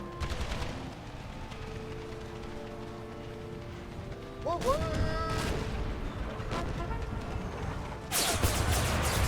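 Canister shot from Civil War artillery in the video game American Civil War: sharp broadband blasts burst out mid-clip and again near the end over steady battlefield noise, with a ratcheting mechanical clatter between them.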